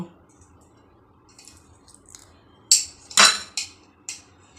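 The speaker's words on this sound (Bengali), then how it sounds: "এই লিকুইড দুধ এর মধ্যে মিশিয়ে পেস্ট করে নেব" Spices stirred into liquid milk to form a paste in a bowl: quiet at first, then a few close spoon clinks and wet squishes in an irregular run.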